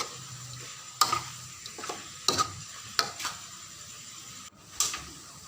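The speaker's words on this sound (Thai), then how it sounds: "ก็ผัดไปเรื่อยๆคั่วไปเรื่อยๆจน จนสุกเท่าที่เราพอใจนะครับผม" Meat being stir-fried in a wok at home, with a soft continuous sizzle under a series of sharp scraping and clacking strokes of a spatula against the pan, spaced roughly once a second.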